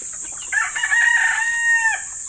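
A Rhode Island chicken lets out a single drawn-out call, close and clear, rising then dropping off after about a second and a half over a steady background hiss.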